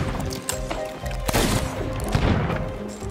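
A sniper shot rings out in the pirate video game Sea of Thieves, one sharp crack amid a busy mix of other game noise and echoing blasts, fairly loud and close.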